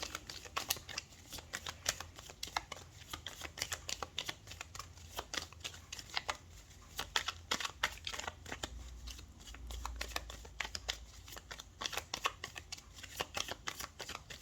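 Tarot cards being shuffled and drawn, a steady run of crisp riffling flicks and soft slaps repeating close up for the whole stretch, with no voices over it.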